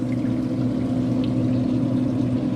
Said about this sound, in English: gonna add her water.